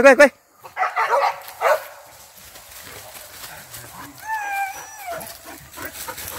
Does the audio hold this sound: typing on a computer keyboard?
no